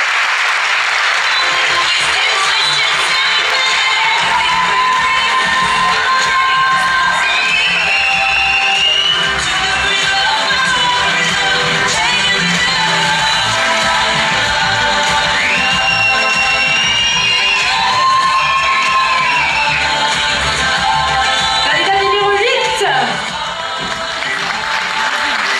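A pageant audience at the Miss Côte d'Or 2018 contest applauds and cheers a contestant, with dense, loud, sustained clapping and a few whistles and shouts running throughout before easing slightly at the end.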